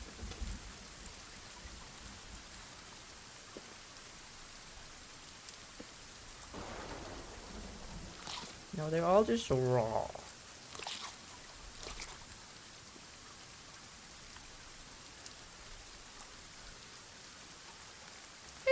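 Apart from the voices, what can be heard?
rain in the video game Sons of the Forest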